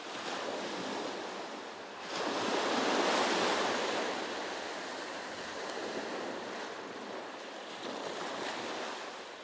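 Sea waves near Janjira fort on the Indian coast, a continuous wash of surf that swells and recedes in soft surges, mixed with wind and heard from a moderate distance.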